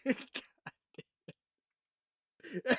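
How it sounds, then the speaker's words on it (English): A burst of harsh coughing, a few rough hacks followed by short throat-clearing bursts, then more coughing after a pause, close and fairly loud. "Now I have a cough"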